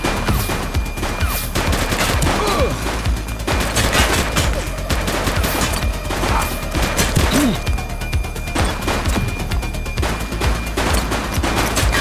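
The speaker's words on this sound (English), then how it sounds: "Shots fired!" Gunfire in The Precinct police game: a sustained, loud fusillade of rapid shots and bursts, densely overlapping and continuous, with occasional heavier impacts and faint voices beneath.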